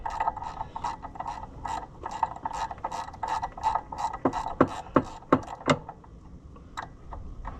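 A hand ratchet unscrewing a bolt on a New Holland TN75DA tractor, giving a fast run of clicking pawl strokes that turns into a few louder, slower clacks, close and clear, with no talking.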